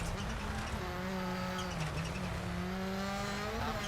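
A rally car engine in the video game EA WRC drones at high revs, steady and loud throughout, its pitch dipping and rising slightly as the car shifts.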